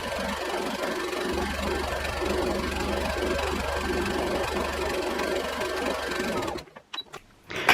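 A sewing machine runs a zigzag stitch on stretch fabric in a steady, continuous mechanical chatter for several seconds, then stops abruptly, leaving a few faint clicks.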